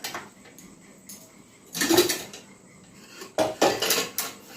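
Metal cooking pot of mutton handled with clanks and scrapes, a loud clatter near the middle and another burst of knocks toward the end, close by with no talk.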